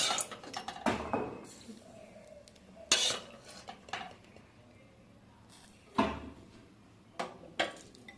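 A spoon stirs batter for eggplant fritters in a bowl, giving soft, quiet scraping with a few sharper clinks of the utensil against the bowl at irregular intervals.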